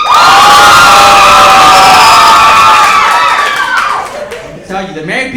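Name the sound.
comedy club audience applauding and cheering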